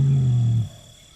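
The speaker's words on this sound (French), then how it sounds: "Ces rugissements indiquent sa présence aux femelles qui se trouvent sur son territoire" Tiger roaring in the Indian jungle: a single deep, loud roar that holds for about half a second and then cuts off, leaving quiet ambience.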